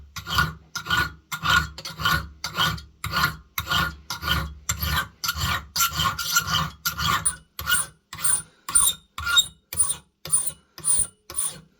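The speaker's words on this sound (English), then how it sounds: "file the top of the spring to thin it out so it starts thicker there and then thins out towards the spoon" A hand file rasps back and forth across the steel spring of a pocket flintlock pistol in a steady rhythm of about two dozen close, crisp strokes.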